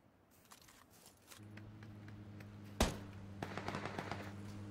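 A burst of gunfire in a video game with a sharp loud shot, over a steady engine-like hum and scattered crackling.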